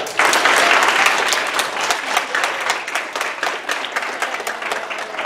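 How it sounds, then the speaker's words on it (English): An audience at a mayor's children's book reading bursts into applause, a dense burst of clapping that swells at the start and then gradually thins and fades over several seconds. "Everybody clap for Anaya."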